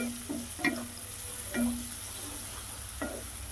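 Onion pieces fry in a pan for Andhra-style brinjal karam, a soft steady sizzle broken by a few scrapes and clinks of a spatula stirring them.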